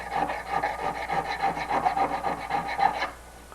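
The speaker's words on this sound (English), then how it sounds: "I don't just file flat, flat, flat. I file around in a circle so that I don't put too many facets onto my work." A hand file rasps in steady back-and-forth strokes over a steel bicycle frame lug on a framebuilding bench, close and continuous for about three seconds before stopping.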